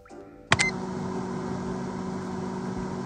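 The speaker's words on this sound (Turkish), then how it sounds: "Havuçları bir de şey atacağım ben mikrodalga fırına" A microwave oven heating carrots gives a steady electric hum with a constant low drone, starting after a short click and beep, running evenly with no speech over it.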